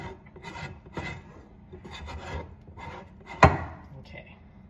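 A plastic dough scraper rasps and rubs against the sides of a sourdough mixing bowl in repeated short strokes, close up, with one sharp knock near the end.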